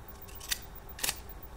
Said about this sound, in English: I guess I'll do one post-it note cut on this